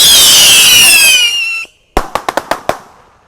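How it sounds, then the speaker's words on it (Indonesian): A pyrotechnic rocket firework whistles with a high rising shriek, then after a brief gap bursts into six or seven sharp, loud cracks in quick irregular succession. "Kita lihat roket pirotarnya."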